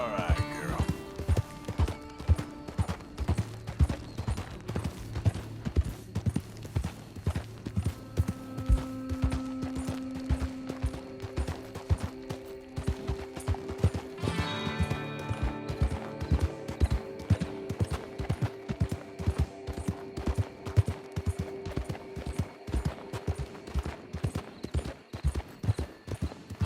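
Horse hooves gallop in Red Dead Redemption 2, a fast, loud, rhythmic clip-clop that runs throughout, with game music and occasional effects layered underneath.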